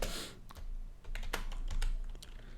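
Quick, close clicks of keys on a computer keyboard as HTML code is typed, a short irregular burst of keystrokes over a low background rumble.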